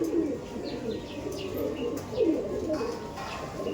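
Kaldom pigeons coo in a loft, a few low throaty rolls rising and falling over a steady background of soft bird calls.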